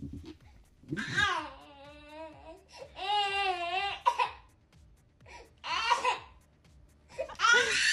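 A baby boy cries in loud, close wails with wavering pitch, broken by short pauses and breathy gasps, and some bursts sound close to laughter.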